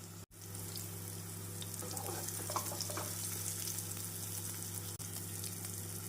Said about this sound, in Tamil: நாம் மீடியம் ஃப்ளேமில் வைத்தே இதை பொறிக்க வேண்டும்